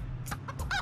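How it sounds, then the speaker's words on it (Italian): A cartoon chicken in the video game Scribblenauts Unlimited clucking in a few quick, close bursts over a low background hum. "La gallina ci tira i calci."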